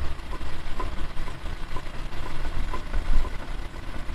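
A car engine idles at low revs during an ABS brake fault check, a steady low, rumbling hum with slight pulsing, close by and moderately loud, with no voices.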